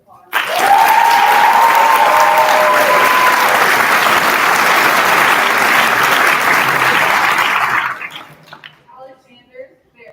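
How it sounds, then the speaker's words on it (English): Audience at a physician assistant program pinning ceremony bursts into steady, full applause that holds for several seconds and then tapers off into a few scattered claps, with a brief voice early on. "we're going to give her a round of applause."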